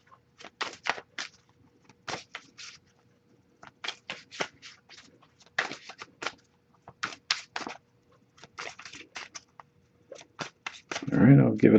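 Tarot cards are shuffled in repeated quick riffling bursts separated by short pauses, close and crisp in a quiet room, ending with a louder, fuller burst.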